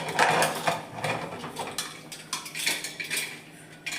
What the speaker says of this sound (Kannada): ನೋಡಿ ಆನಂತರ ಕುಕ್ಕರ್ ಓಪನ್ ಆಗ್ತಿದ್ದೇನೆ.